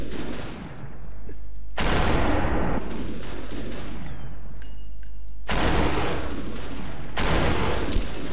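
Repeated gunfire bursts in the SuperHot first-person shooter game, loud and close, arriving in several separate volleys with brief gaps between them.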